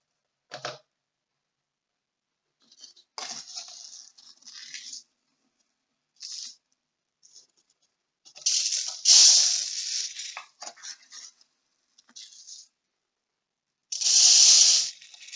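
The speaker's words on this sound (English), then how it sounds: "Let's get some more rice in." Dry rice poured through a funnel into a container for an eye spy game: several separate hissing, rattling pours of varying length with quiet gaps between them, close and clear, with no talk.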